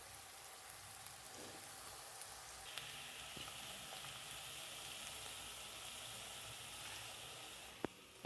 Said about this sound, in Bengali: এর মধ্যে কিন্তু গাজরগুলো ভাজাও হয়ে যাবে